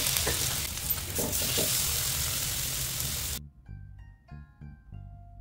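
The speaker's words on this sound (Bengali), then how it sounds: "এখন অল্প আছে আস্তে আস্তে করে এটাকে উল্টে পাল্টে ব্রাউন কালার করে ভাজবো" Kebab frying in ghee on a tawa gives a steady, loud sizzle with the occasional stir or turn, then cuts off abruptly, leaving faint scraping clinks and soft spatter.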